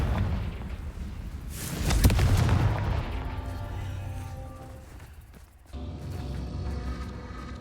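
In the Hogwarts Legacy video game, a Confringo spell blast booms loudly around the two-second mark, then fades into rumbling game audio with a further thud later on.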